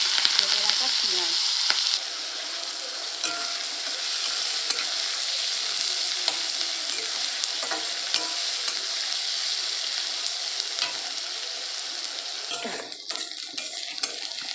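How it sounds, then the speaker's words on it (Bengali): Chopped onions hit hot oil in a wok and fry with a loud, steady sizzle that crackles on close by throughout, with no one talking. "তেল গরম হয়ে গেছে, দিয়ে দিচ্ছি কেটে রাখা পেঁয়াজ।"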